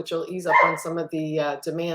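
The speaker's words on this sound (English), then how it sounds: "You can hear my dog in the background." A pet dog barks and yips in the background, partly masked by a person talking steadily in the foreground.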